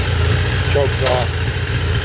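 A Suzuki Hayabusa motorcycle engine idles steadily after a cold start, a loud, constant close-up rumble that runs through the whole stretch, with brief faint voice sounds over it.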